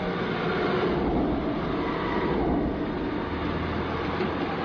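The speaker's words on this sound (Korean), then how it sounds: "열차가 플랫폼에 도착하는 순간" A Seoul subway Line 5 train pulling into the platform at Cheonho Station, a loud, steady rumble and rushing roar from the wheels and motors. It fills the clip without pause, with no voices.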